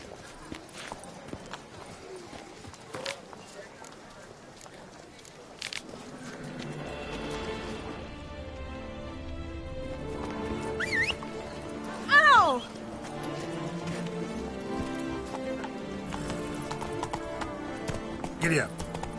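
Horse hooves clip-clop at a gallop in a video game, a steady rhythmic pattern building in the second half, with a whinny partway through and game dialogue voices over it.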